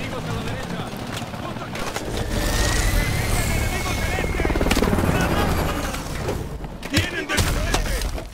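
Helicopters roar steadily through a battle in the video game Call of Duty: Advanced Warfare, loud and continuous beneath gunfire, explosions and shouted voices.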